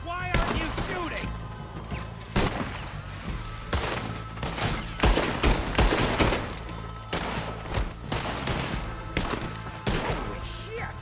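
Rapid bursts of gunfire in the Red Dead Redemption 2 video game, with loud repeated shots and impacts clustered through the whole stretch and voices talking among them.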